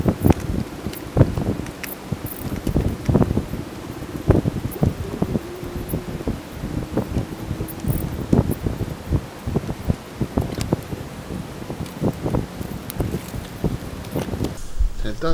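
A 35 m HoseLink garden hose is wound up outdoors, giving irregular rustling, scraping and thumping up close amid wind buffeting on the microphone.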